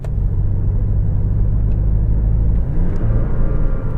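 Porsche 718 Boxster with 2.0 petrol engine and PDK gearbox under throttle in manual mode, dropping from fifth to second gear: a loud, steady low engine roar from inside the car, with a brief shift in tone near the end.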